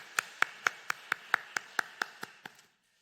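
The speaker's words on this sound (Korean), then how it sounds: "우리 축복하고 격려하는 박수 부탁드리겠습니다" Clapping at a Wednesday church service in Bucheon: about a dozen crisp, evenly spaced claps in a steady rhythm, fairly close, tapering slightly before stopping abruptly into silence.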